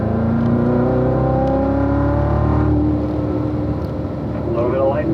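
A car on a race track accelerates hard through the gears as its engine note climbs, drops briefly at a shift, then climbs again. The engine is loud, close and continuous throughout.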